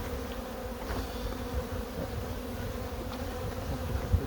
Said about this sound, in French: il y a même plein d'abeilles par terre devant, des faux bourdons